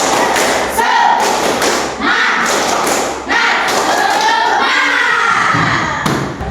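A classroom of students in Indonesia performs the teacher-led 'tepuk semangat' spirit clap, loud rhythmic group claps and thumps in bursts, with children's voices and shouting mixed in.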